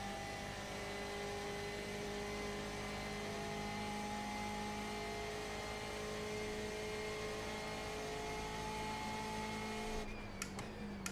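Ford race car engine in iRacing at the 24 Hours of Le Mans, a continuous droning whine with stable tones for about ten seconds before a brief rough crackle at the end.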